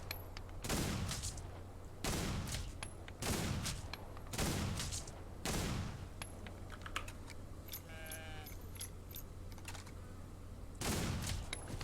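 Gunshots in the Old West video game Outlaws of the Old West: about six loud, sharp shots spaced roughly a second apart, each with a reverberant tail, over a steady low game hum and faint chirps.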